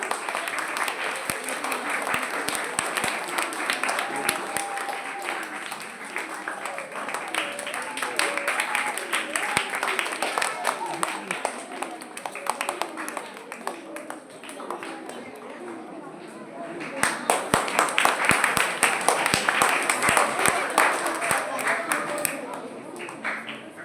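An audience claps warmly as a priest is welcomed onto the stage at a St. Mary's Day church celebration, steady sustained applause from a large crowd that swells again toward the end.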